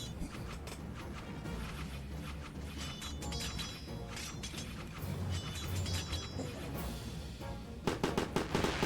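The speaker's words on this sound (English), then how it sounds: "Fireworks!" Fireworks in a video game go off in a rapid series of crackling bangs and pops, growing denser and louder toward the end, alone without talk.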